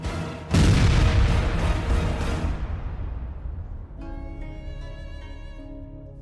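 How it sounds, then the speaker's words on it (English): An artillery strike on a T-72B tank hidden among trees: a sudden heavy blast that booms and decays over a few seconds, followed by a lower, crackling aftermath. "aerial reconnaissance detected an enemy T-72B concealed among trees, prompting an artillery strike to destroy the target."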